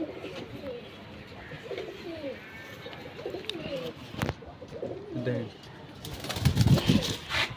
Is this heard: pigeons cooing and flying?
yes